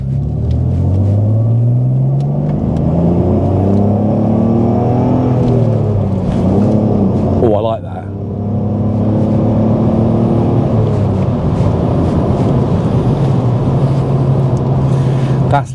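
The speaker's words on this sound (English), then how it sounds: "I am going to enjoy driving this car." Car engine on a test run, a steady close rumble with rising and falling gear-change tones, a brief break near the middle before the drive resumes; people talk faintly underneath.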